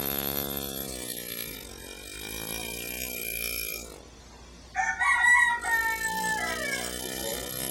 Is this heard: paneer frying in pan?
no